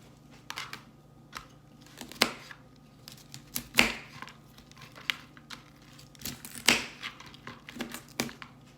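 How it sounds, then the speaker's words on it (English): A knife chops broccoli crowns into small bite-sized pieces during keto meal prep, giving sharp separate crunchy cuts at an uneven pace with quiet pauses between them. "now I'm gonna cut up the broccoli"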